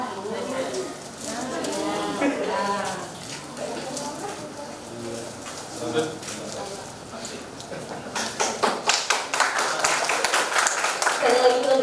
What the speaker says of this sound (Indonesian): Sekali lagi kita berikan tepuk tangan yang mulia